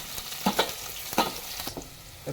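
Sliced onion dropped into hot oil already holding crushed garlic, giving a steady close sizzle with a few sharp bursts of stirring and spatula scrapes, no voices.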